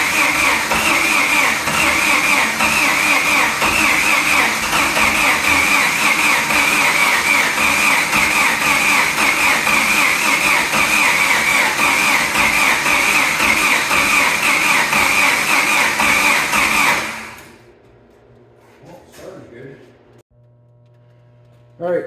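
A Jeep YJ engine runs loud and steady with a rough, rumbling idle for about seventeen seconds, then cuts off abruptly, leaving quiet with a few faint clicks and a voice.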